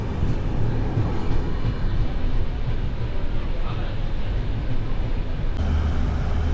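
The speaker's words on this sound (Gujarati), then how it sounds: "ट्रेन एंटर हो रही है सावरकुंडला रेलवे स्टेशन." Train 19256 rolls into Savarkundla railway station on the Mahuva–Botad line with a loud, continuous rumble and rattle of wheels and carriages that holds steady throughout.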